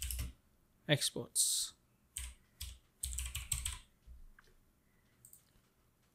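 Computer keyboard typed in quick clustered bursts of clicky keystrokes, close and fairly quiet, with a brief spoken word between them.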